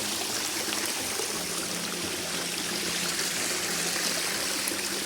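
A small natural spring at a rural watering spot near a cashew orchard in Konkan trickles and burbles continuously, a close, steady hiss of flowing water with no voices.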